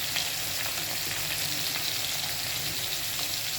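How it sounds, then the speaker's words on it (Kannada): Onion sizzling in hot oil for a tempering, with a steady dense frying hiss that stays close and even throughout, with no voices. "ಒಗ್ಗರಣೆ ಹಾಕೋದಕ್ಕೆ ಹಾಕ್ತಾಯಿದ್ದೀನಿ."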